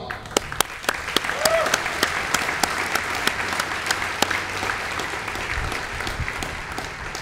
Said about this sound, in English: Please join me in thanking our families and give them a round of applause.